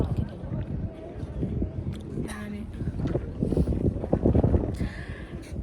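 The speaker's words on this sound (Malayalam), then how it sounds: "നല്ല അടിപൊളി കാറ്റ് എല്ലാം ഉണ്ട്." Strong wind buffeting the microphone outdoors on Jebal Hafeet mountain near Al Ain, a continuous rushing roar with gusts, while people talk over it.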